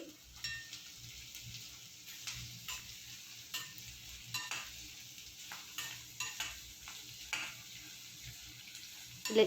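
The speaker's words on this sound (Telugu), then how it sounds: "స్లైసెస్గా కట్ చేసి పెట్టుకున్న ఆనియన్స్ని అయితే డీప్ ఫ్రై చేస్తున్నానండి" Sliced onions deep frying in hot oil in a pan, a steady crackling sizzle with regular soft stirring scrapes roughly every second, close and moderately quiet with no talking.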